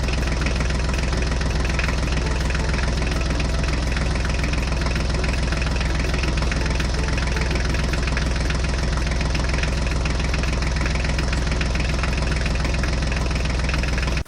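A Mahindra tractor engine runs at a steady, continuous idle, a close, even low chugging hum that holds unchanged throughout with no voices.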